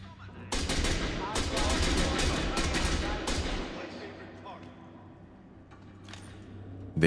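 Gunfire in the Star Citizen shooter game: several loud bursts of rapid shots over the first few seconds, then a quieter spell with a couple of distant cracks and a final sharp shot.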